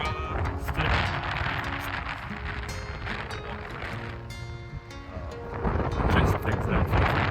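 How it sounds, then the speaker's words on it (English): Strong wind buffeting a microphone outdoors on a morning near the water on the way to Merritt Island, a steady rough rumble throughout that swells louder toward the end. "I don't know if there's like way too much wind right now"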